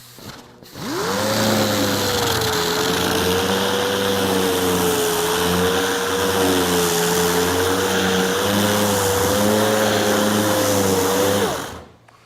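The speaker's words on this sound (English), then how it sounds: "I'm going to use just the weight of the sander and let it sit on there and kind of do its work" An Ingersoll Rand 328B geared orbital sander runs steadily against a workpiece, resting on its own weight. It gives a continuous loud whirring drone that starts and stops cleanly, close up with no talking.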